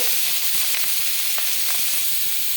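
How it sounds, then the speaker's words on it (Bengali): Small shrimp fry in mustard oil with salt and turmeric, giving a steady, dense sizzle and hiss throughout, with a few faint clicks of movement in the pan and no talking. "লবণ হলুদ দিয়ে একটু চিংড়ি মাছটাকে ভেজে নেব"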